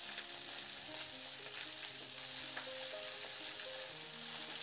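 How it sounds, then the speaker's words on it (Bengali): Cut vegetables hit hot oil with bay leaf and panch phoron, a soft, steady sizzle and crackle of frying, faint and close, with occasional light stirring scrapes and no talk. "সমস্ত সবজিগুলোকে দিয়ে দিলাম। এরপর নাড়াচাড়া করে মিনিট 4-5 সময় ধরে খুব ভালো করে সবজিটাকে ভেজে নেব"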